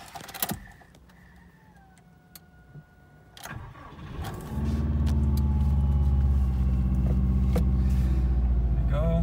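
Subaru WRX Sport Wagon engine cranking briefly and catching quickly, then settling into a loud, steady idle with a low rumble, heard from inside the car after a few clicks and small cabin sounds.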